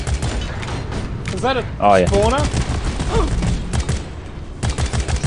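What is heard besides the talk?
gunfire shooting bulbs in video game Deep Rock Galactic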